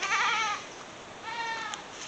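A goat bleats twice in quick succession, a wavering, nasal cry heard close and fairly loud, with a short pause between calls.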